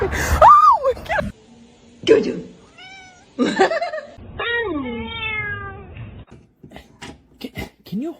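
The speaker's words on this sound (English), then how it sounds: "Look at this little kitten." A little kitten meows in short, high, wavering cries, several of them spaced through the moment, close and fairly clear, with people talking softly in between.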